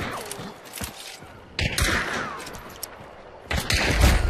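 Gunfire in the video game Hunt: Showdown: a couple of sharp, loud shots with noisy tails, separated by quieter gaps of ambient game sound.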